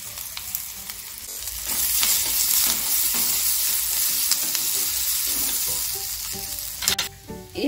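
Mashed potatoes hit hot oil with frying curry leaves for samosa filling, a loud continuous sizzle with stirring scrapes and a few clatters near the end.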